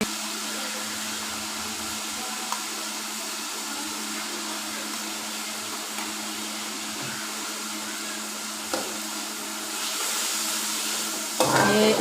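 Chicken frying in a wok while ginger garlic paste is added, a steady loud sizzle with occasional stirring scrapes and a rising burst near the end, no voices.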